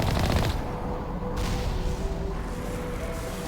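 Rapid automatic gunfire in the game Mass Effect, a fast, loud rattling stream of shots up close, followed by continued crackling fire and whooshing effects.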